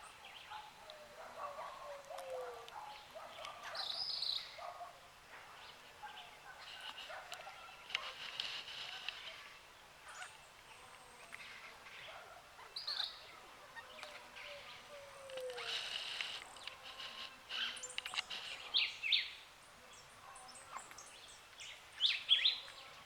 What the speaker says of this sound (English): Alright people, this is a bird feeding tree.